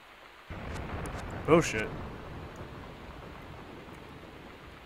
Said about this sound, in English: Oh my god, it's storming.